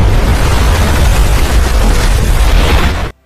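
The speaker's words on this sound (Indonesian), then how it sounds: "Hingga ledakan pun terjadi." A film explosion blasts loud and sustained, a dense roaring boom that rumbles for about three seconds and then cuts off abruptly into silence.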